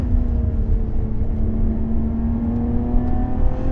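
A Lotus Evora 400 engine drones steadily and loudly from inside the moving car, a constant hum with little change in pitch and no talking.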